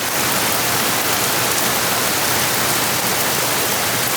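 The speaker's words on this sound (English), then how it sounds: "Pause for rain cloud because it's rain." Rain shower pouring onto a boat at anchor in Tonga, a loud, unbroken hiss of falling water with no gaps.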